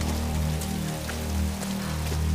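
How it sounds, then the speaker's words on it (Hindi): Steady rain pours down in the video game Tomb Raider on Android, a dense, continuous hiss of drops spread evenly over the whole moment. "अभी बारिश हो रहा है"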